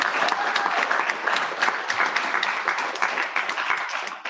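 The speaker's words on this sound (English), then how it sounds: "Let's have a cheer on that too." An audience at a public arts accessibility convening in Baltimore cheers and applauds, with dense, steady clapping and scattered whoops sustained throughout at close range, with no speech over it.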